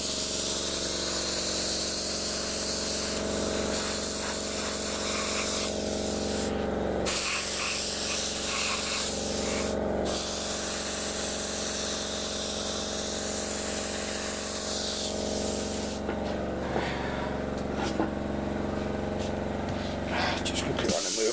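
A compressor runs steadily throughout while an airbrush sprays grey base paint onto an Enterprise NX-01 refit scale model, with continuous close hissing that shifts in tone near the end.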